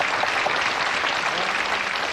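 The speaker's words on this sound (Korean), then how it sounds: "두 분에게 다시 한번 박수 보내주세요." A crowd claps steadily and loudly at a kindergarten graduation ceremony, a dense continuous wash of applause with no pauses.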